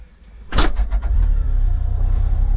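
A 2026 Can-Am Defender HD 11 Limited utility vehicle engine starts up with a sharp burst and settles into a steady, rumbling idle close by, with no talking.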